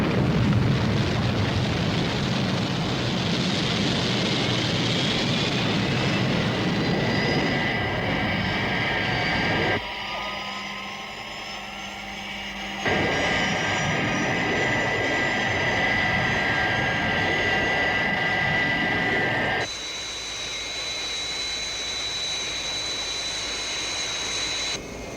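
Jet aircraft in a 1964 air force setting building up engine thrust for takeoff, a steady loud roar with a rising whine that holds for the whole stretch, with no talk over it.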